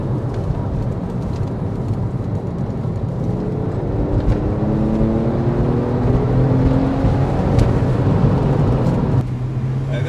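A Porsche 911 Carrera S 997.1 with manual gearbox drives steadily along a road, its engine droning loud and close with a rising pitch sweep before it settles into a lower, steady note near the end.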